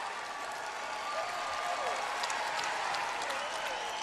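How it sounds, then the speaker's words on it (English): North Carolina crowd in the Greensboro Coliseum at a women's college basketball tournament game, sustained dense applause and cheering filling the arena, with a commentator talking over it. "The North Carolina crowd rising to their feet here in the Greensboro Coliseum, sensing victory is near."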